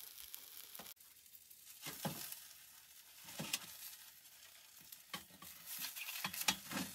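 Bacon sizzles in a pan on a camp stove during winter camping, a soft steady frying hiss broken by several sharp stirring scrapes and clicks, faint and close.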